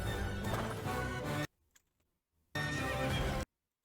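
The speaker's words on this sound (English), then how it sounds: "Nothing really special about this clip, just the horse." A horse neighs in a Zelda Tears of the Kingdom video game trailer, two loud, close whinnies separated by a brief quiet gap with faint clip-clop sounds, each neigh cutting off abruptly.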